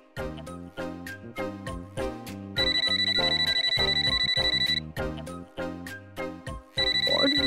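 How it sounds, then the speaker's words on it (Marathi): A phone rings with a bright electronic ringtone in repeating bursts, layered over a rhythmic musical background in a Marathi TV drama scene, and no one speaks. "विकीचा फोन"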